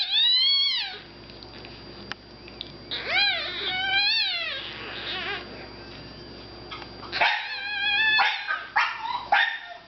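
An English Bulldog mother calling for her puppies with repeated high, whining yelps and cries in short bursts, close and fairly loud, with quiet gaps between them.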